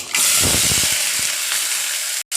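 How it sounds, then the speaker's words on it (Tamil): Small onions dropped into hot oil with fenugreek and mustard seeds, a loud sudden sizzle and hiss that holds steadily for a couple of seconds, close and alone. "இப்போ சின்ன வெங்காயம் போட்டுக்கலாம்"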